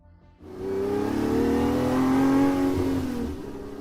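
Ferrari 250 Testa Rossa with its 3.0-litre V12 engine revving: a loud, close, sustained rising roar that climbs in pitch, holds, then eases off, heard alone with no talking.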